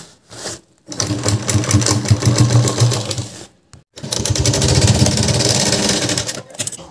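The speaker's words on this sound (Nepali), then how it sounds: "यहाँनिरबाट माथिसम्म नसिलाउने, अलिकति तलबाट सिलाउँदै जाने।" A sewing machine stitches a waterproof shoulder bag in two close, steady whirring runs with rapid rhythmic needle clatter, separated by a brief pause.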